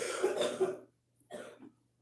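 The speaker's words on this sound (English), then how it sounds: "my daughter has a cough," A young girl coughs twice, close and fairly loud, each a short burst with a brief quiet gap between them.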